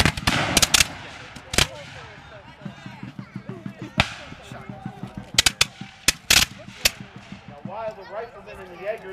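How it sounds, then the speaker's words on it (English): Muskets fired in a Revolutionary War reenactment, sharp reports coming singly and in close clusters across the field, some near and loud, others softer, with voices talking and calling between the shots. "While the riflemen and the Jaegers will fire individually, the infantry fire volleys."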